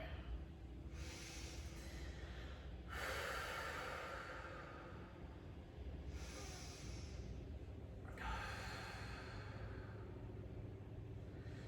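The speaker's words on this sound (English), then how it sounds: "So inhale for 4, exhale for 4." Slow, deep yoga breathing, long airy inhales and exhales in an unhurried rhythm of about four counts each, close to the microphone over a low background rumble.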